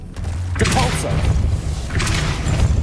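A Depulso spell cast in the Hogwarts Legacy video game, heard as a short whooshing burst with a thud, repeated twice over a steady low game ambience.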